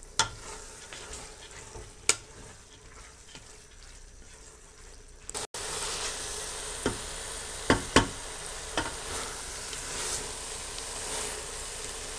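Dal frying with vegetables in oil hisses softly at first with a few clinks, then jumps to a louder, fuller sizzle partway through that continues with occasional stirring knocks.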